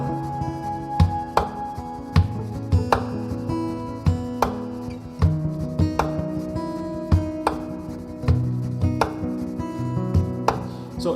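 A percussion part built on a loop pedal plays as a steady repeating pattern of sharp knocking hits over a low sustained tone, close and even, with no voices.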